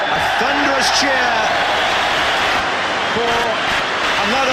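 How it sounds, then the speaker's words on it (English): A big crowd at a Liverpool football match against Nottingham Forest keeps up a dense, loud roar with shouts and chants, while a commentator speaks over it. "A thunderous cheer"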